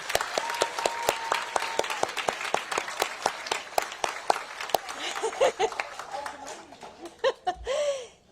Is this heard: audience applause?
yes